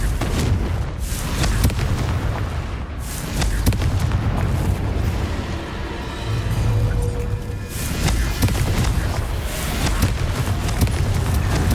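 A Confringo fire spell bursts in Hogwarts Legacy, a dense, continuous rumble of booming blasts layered over game music and effects, loud throughout with several sharper impacts and no voices.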